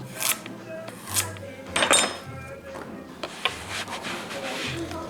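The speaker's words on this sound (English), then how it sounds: "So I'm getting the carrots and potatoes chopped up now" Carrots and potatoes chopped on a board for a sheet pan supper: a series of knife strikes and scraping thuds at an irregular pace, close by, with some light kitchen clatter.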